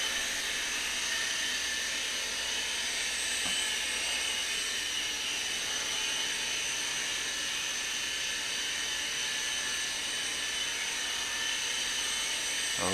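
A Sky Rover Navigator drone flies a pre-recorded autopilot path, its rotors making a steady, high whining buzz that holds level and continuous throughout, with no talking.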